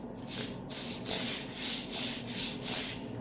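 Rhythmic sanding of the faces of a pine wood display case, with steady back-and-forth strokes repeating about twice per second, close and fairly quiet.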